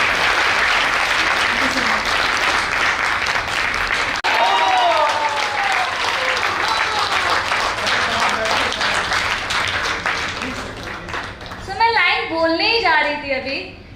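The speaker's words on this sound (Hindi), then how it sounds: "एक जोरदार तालियां हमारी दोस्त को" An audience at a motivational talk gives long, strong applause, dense clapping filling the room for about eleven seconds before thinning out as a voice begins speaking near the end.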